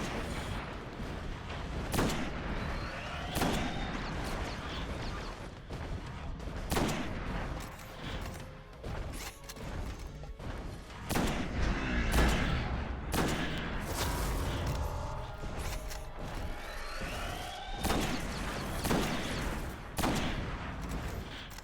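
Sniper rifle and other gunfire in the video game Destiny, with repeated sharp shots and bursts of fire cracking over a busy, continuous battle din throughout.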